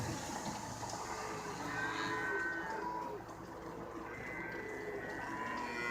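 Black-and-white cattle low and moo faintly amid a busy barn ambience, with a steady mechanical hum running underneath.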